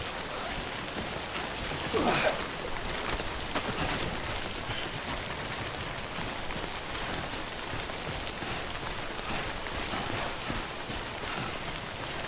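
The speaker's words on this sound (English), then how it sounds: "Don't stay out in the rain any longer than you have to." Timefall rain in Death Stranding hisses steadily on the ground as a constant broadband patter, with a brief louder splash early on and no voices.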